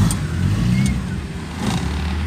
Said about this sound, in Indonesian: Nih bos, suara mesinnya cekur,